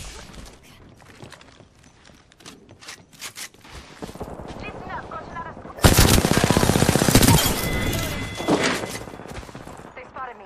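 Gunfire in the Apex Legends battle royale game: scattered shots and footsteps under game voice lines, then a loud, sustained automatic burst of rapid shots that fades into further scattered fire.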